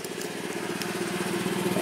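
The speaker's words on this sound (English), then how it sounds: "that engine's already filled the tank" Gas engine driving a mobile air compressor runs at full throttle, a steady, close mechanical drone with an even pulsing rhythm throughout, no voices.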